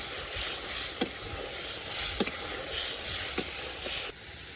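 Spice paste (masala) sautéing in a pan gives a steady, close sizzle, while a utensil stirs and scrapes in a few distinct strokes, and the sizzle eases at the end.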